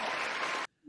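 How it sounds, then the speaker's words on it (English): A studio audience gives a round of applause for a quiz segment, a dense burst of clapping that cuts off abruptly after well under a second. "Everybody, round of applause."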